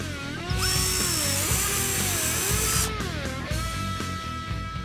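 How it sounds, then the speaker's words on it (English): A power drill fitted with a 1/8-inch bit bores a hole in a Sto-N-Sho license plate bracket on a 2015-2017 Mustang, whining steadily at close range with pitch shifting as the motor loads and eases. "Now for the third hole, you'll grab an 1/8-inch drill bit."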